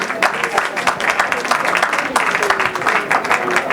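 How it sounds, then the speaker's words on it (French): An audience at a conference session on international cooperation applauds, a short burst of fairly close, rhythmic clapping from a modest crowd, steady throughout. "on peut les applaudir, hein, merci beaucoup"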